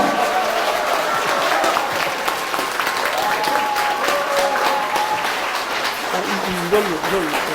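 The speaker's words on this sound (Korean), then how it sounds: "뜨거운 박수 부탁드리겠습니다" Forum audience gives a speaker a warm welcome with steady, full applause from a crowd, continuous throughout, with a few voices and a microphone being handled near the end.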